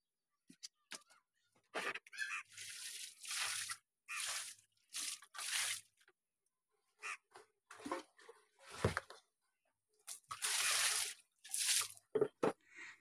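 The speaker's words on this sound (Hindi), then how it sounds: "अब हम पानी डाल के पूरे फर्श को धोएंगे।" Water is poured across a floor and the floor is washed. Close, hissing bursts of splashing and scrubbing come in short runs with quiet gaps between them, and no speech is heard.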